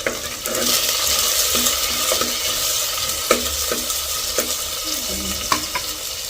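Dried fish sautéing in a pan with tomato, garlic, onion and green chili, giving a steady sizzle and fry throughout, with intermittent stirring knocks and scrapes against the pan.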